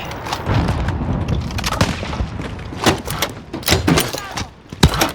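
Several loud booms and sharp blasts go off in quick succession amid gunfire in Call of Duty: Warzone, with a voice talking over the action.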